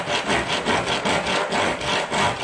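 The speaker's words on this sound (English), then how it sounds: "I'm gonna use a handsaw." A handsaw cuts a notch into a wooden board during closet shelf building, with rapid, even back-and-forth rasping strokes, loud and close, with no talking.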